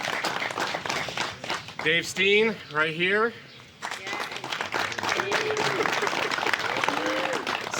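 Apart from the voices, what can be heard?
guests applauding chapter advisor and helpers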